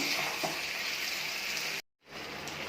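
Masoor lentil dal masala fries with sour yogurt in a pan, giving a steady, even sizzle that cuts out briefly near the end and then resumes.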